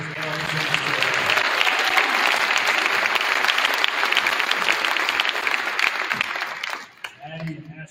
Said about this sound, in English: Let's give one more round of applause for our Hall of Famers.